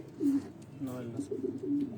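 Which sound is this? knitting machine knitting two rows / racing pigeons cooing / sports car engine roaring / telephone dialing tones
racing pigeons cooing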